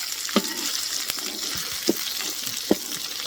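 Salmon fillets frying in butter in a pan give a steady close sizzle, with a few sharp clinks and scrapes from a utensil knocking against the pan.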